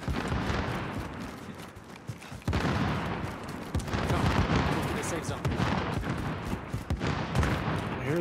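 Gunfire in the video game Warzone: a rapid, continuous run of shots and bursts, sometimes dense like automatic fire, over a noisy battlefield backdrop, with voices now and then.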